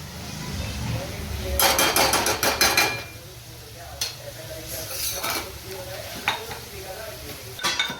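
Tomatoes with red chilli and spices fry in a pan for an eggplant dish, sizzling loudly at close range while a utensil scrapes and clanks in quick bursts of stirring, with a person talking over it.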